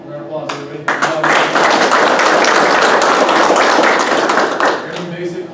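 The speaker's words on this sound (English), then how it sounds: "Round of applause, everybody." Audience clapping at an Air Force airman graduation ceremony, a dense burst of applause lasting several seconds, with a voice heard before and after it.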